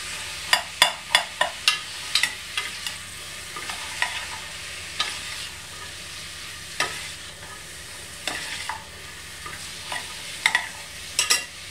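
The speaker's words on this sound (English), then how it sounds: "Give that a stir." Soya mince pasta sauce with celery frying in a pan, stirred with a series of sharp scraping clacks against a steady background sizzle, busier at the start and again near the end, with no talk.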